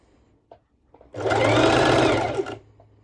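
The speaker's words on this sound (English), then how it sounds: "I'm sewing quite close to the edge here." Sewing machine stitching lycra stretch fabric close to the edge, a loud, even motor whir with rapid needle chatter lasting about a second and a half, framed by a few faint clicks before and after.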